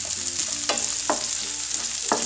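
Green chilli and carrot sizzle in hot oil with onion for a bhagar (vari rice) pulav: a constant close frying hiss with three or four sharp spoon-on-pan clinks as the mix is stirred.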